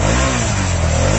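Honda Transalp 700 motorcycle engine revving steadily and loudly up close, a continuous mid-pitched drone with a strong low rumble and no voices.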